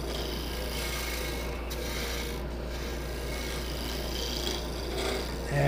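A skew chisel laid flat cuts wood on a lathe while a wooden mallet is turned, giving a steady, continuous rasping scrape at moderate level with no talking.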